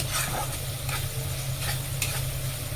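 Spice paste for matar paneer fries in oil with a close, constant sizzle, while a utensil scrapes and stirs through it in several distinct strokes.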